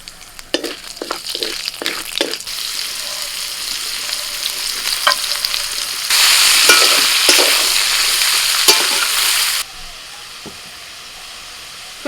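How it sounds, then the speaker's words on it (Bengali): Dry red chilies, bay leaves and black cumin hit hot oil for a tempering, giving a loud crackling sizzle with a few sharp pops early on and a fierce burst of hissing midway before it settles back to a lighter fry. "ফোড়নে দিলাম শুকনো লঙ্কা তেজপাতা আর কালো জিরে"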